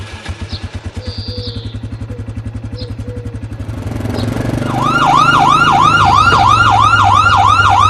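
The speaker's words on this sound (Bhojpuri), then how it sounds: "अरे हट जा पुलिस की गाड़ी आ गई" A police car siren wails in a rising-falling loop, loud and near, over a puttering motorcycle engine idling underneath; the siren cuts in after a few seconds and keeps cycling to the end.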